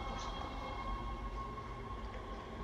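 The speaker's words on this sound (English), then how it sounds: "So let's get on the train" A train in the video game Dead Space rolls along with a constant low rumble and thin metallic whining tones, quiet and steady with no talking over it.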